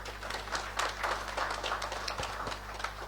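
A small audience gives a round of applause welcoming a speaker at a diaspora outreach event, light scattered clapping that is fairly faint and brief.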